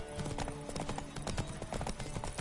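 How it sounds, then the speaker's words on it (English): A horse gallops in The Witcher: Wild Hunt, a fast, steady clip-clop of hooves drumming over a continuous game soundscape. "I think we're galloping now, so we're okay."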